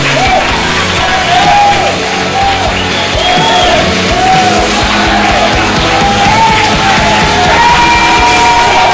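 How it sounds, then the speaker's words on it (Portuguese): Church congregation yelling, whooping and cheering with applause in a loud, dense crowd roar that stays steady throughout, with scattered shouts rising above the mass of voices. "Aplauda o Senhor. Faça bastante barulho."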